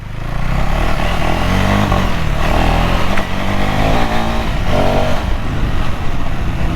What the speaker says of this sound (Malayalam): ഇപ്പോഴാണ് സത്യം പറഞ്ഞ ഒരു പ്രോപ്പർ എൻഡ്യൂറോ ബൈക്ക് ഓടിക്കുന്നത് കേട്ടോ